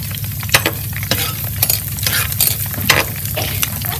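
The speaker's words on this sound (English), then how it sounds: "So we're putting a little bit of oil in the pan for our pancit. We're gonna put garlic and saute it for a few minutes." Garlic sautéing in hot oil in a pan for pancit bihon, a steady close sizzle with scraping stirring strokes scattered throughout and no voices.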